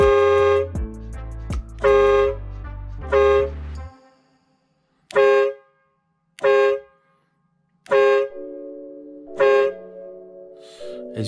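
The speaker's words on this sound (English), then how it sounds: "it sounds like a mini horn, mini train horn, or mini train" Loud multi-tone blasts from a mini train horn fitted to a vehicle, about seven of them, the first few long and stacked, later ones shorter with brief silences between, close by.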